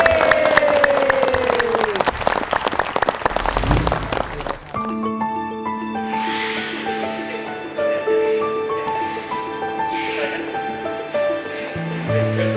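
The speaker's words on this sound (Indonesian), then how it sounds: "Kasih tepuk tangan dulu." Studio audience at a TV motivational seminar show bursts into applause, a broad crowd clapping that swells after a host's voice and continues under bright background music.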